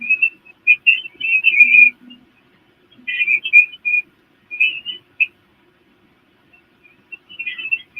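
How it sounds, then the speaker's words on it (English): A bird's high whistled chirps come in short bursts with gaps between them, fairly clear against an otherwise quiet background at an evening livestream in Springfield, Ohio. "there's like a Tweety bird or something"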